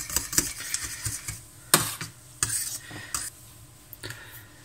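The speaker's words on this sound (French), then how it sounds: "je vais prendre une fourchette, je mélange bien, je mets mon café" A fork stirs coffee powder into gelatin in a bowl, producing quick repeated scraping and clinking strokes, close and fairly loud, with no talking.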